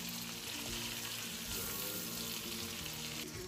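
Butter sizzling and frying steadily in a pan while a white sauce pasta is being made, continuous close crackle with no talking.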